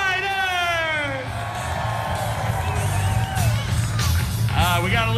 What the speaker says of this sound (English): put your hands together and make some noise